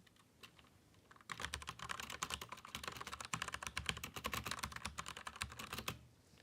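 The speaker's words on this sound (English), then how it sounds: "Okay, new computer keyboard." Steady, rapid typing on a new computer keyboard, a dense close run of crisp key clicks lasting several seconds after a few isolated taps, with no talk.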